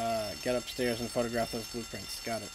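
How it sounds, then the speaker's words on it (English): Fire alarm in the video game Grand Theft Auto: San Andreas, a loud repeating electronic ring in rapid evenly spaced pulses, with brief voices talking over it. "That's it. That's the fire alarm."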